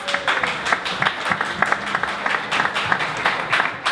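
Audience at a Black business summit in Minneapolis applauds a speaker, a steady wash of clapping from a seated crowd, moderately loud with a few distinct sharp claps standing out.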